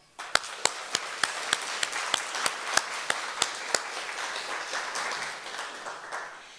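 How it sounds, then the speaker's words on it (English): Applause from a group, with a few sharp individual claps at first that build into a steady wash of clapping, then slowly fade. "Can we give a big round of applause to all of them?"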